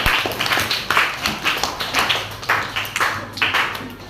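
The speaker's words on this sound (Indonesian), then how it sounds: "Oke, tepuk tangan." Students in a sixth-grade classroom clap together, a steady run of brisk, rhythmic claps filling the room at moderate loudness, without any talking.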